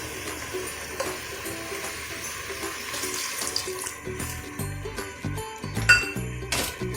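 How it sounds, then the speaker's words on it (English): Water splashes and gurgles steadily from a tap or jug into a cooking pot holding a cauliflower dish, with occasional light clinks of metal close by. "And now we add water."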